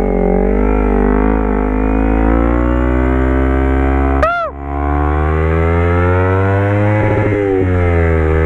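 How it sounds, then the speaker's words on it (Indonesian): A Kawasaki Z250 motorcycle engine holds a loud, close, steady high-pitched drone through its exhaust, dipping sharply for a moment midway and then returning to a sustained rev. "Oh, knalpotnya geber-geber."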